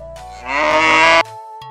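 A cow gives a single loud, close moo lasting under a second, rising and holding before cutting off, with quiet tonal background around it.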